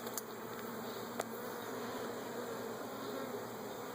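Honeybees at a beehive hum in a dense, continuous drone, with a few individual bees buzzing close past now and then, no voices.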